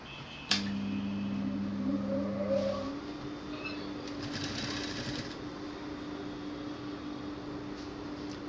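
Sewing machine running steadily while stitching down a seam on an A-line gown, with a sharp click at the start and a sustained motor hum that shifts pitch partway through; no talking.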